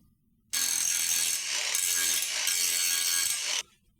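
A cutting tool grinds through a welded exhaust pipe on a Jeep, one loud continuous harsh rasp lasting about three seconds, starting and stopping abruptly with near silence on either side.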